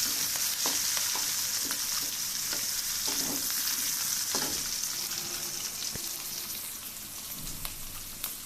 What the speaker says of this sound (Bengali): ওই তেলে সম্বারা ফোড়ন দিয়ে পেঁয়াজ কাঁচামরিচ তেজপাতা দিয়ে ভেজে নিচ্ছি